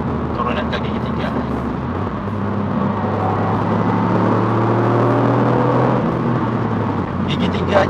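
Toyota GR Yaris 2022 engine revving as the driver downshifts from fourth to third gear at around 80 km/h in city driving, a steady close cabin drone rising in pitch and holding loud under intermittent talk.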